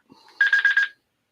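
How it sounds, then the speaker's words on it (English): A phone with a dying battery gives a short electronic alert: a faint lead-in tone, then a quick run of four bright pulsing beeps, close and clear, with no voices. "I don't know if you guys heard that beep."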